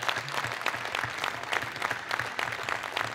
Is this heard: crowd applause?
yes